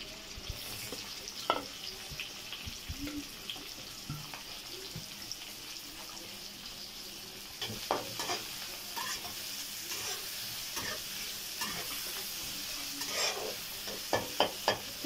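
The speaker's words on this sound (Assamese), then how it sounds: "এতিয়া এই পিঁয়াজখিনি ফ্ৰাই কৰিব লাগিব" Finely chopped onions frying in a pan, a soft steady sizzle with intermittent spatula scrapes and clinks that come more often toward the end.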